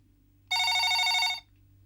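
A telephone rings in a single continuous burst of bright electronic tone, loud and close, against a quiet room hum in a Tamil television serial scene.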